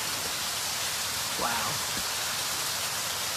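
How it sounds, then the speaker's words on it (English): Steady, loud pouring rain fills the whole stretch as an unbroken hiss, with a brief voiced exclamation rising faintly above it. "Kind of cool giving a message in the pouring rain."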